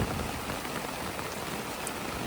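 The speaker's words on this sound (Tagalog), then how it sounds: "Guys, ang lakas na ng ulan. Binabagyo na kami." Heavy rain pours down steadily at a beach campground during a storm, a loud, dense hiss that fills the whole moment with no voices.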